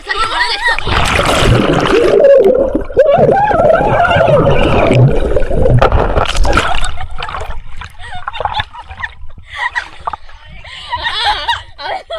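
Water splashes and sloshes close by while swimming, with bursts of churning and gurgling over the first several seconds, then quieter intermittent splashes, and voices talking throughout.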